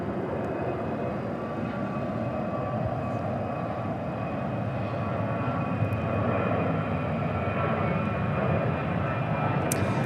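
A Turkish Airlines international heavy jet departs Dallas Fort Worth airport, heard as a distant, continuous engine roar that stays fairly even and slowly builds.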